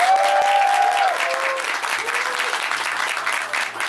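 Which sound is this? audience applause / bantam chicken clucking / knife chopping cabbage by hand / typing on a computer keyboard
audience applause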